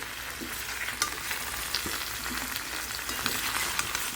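Pumpkin and potato pieces fry in a pan, giving a steady sizzle with light scraping and knocks as they are stirred, close and moderately quiet, with no voices.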